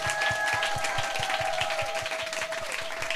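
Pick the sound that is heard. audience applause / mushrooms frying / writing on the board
audience applause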